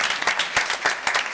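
Audience applause at a board of education meeting: a crowd claps steadily, fairly close and loud, with a rhythmic patter of overlapping hand claps and no speech over it.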